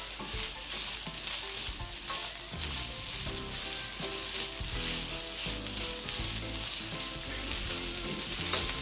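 Egg fried rice with chopped spring onion (escallion) sizzling and being stirred in a hot pan, a steady loud crackle with scraping utensil strokes throughout, no talking.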